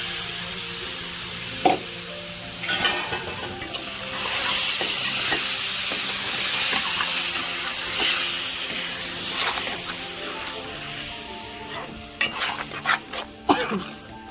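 Tomato paste sizzling in a hot pan of oil for a village-style tomato curry, with a steady frying hiss and scraping stirs coming through at close range, no talk.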